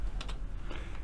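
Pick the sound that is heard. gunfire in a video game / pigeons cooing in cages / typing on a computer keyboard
typing on a computer keyboard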